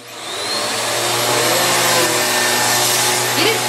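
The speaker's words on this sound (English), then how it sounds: "you're going to get that vacuum cleaner?" A vacuum cleaner switches on and whines up to a loud, steady roar that holds close by, its motor drone continuous with a faint voice briefly underneath.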